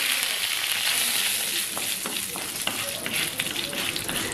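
Cashews and raisins fry loudly in an oil tempering with hing, a dense, continuous crackling sizzle close by with small pops throughout.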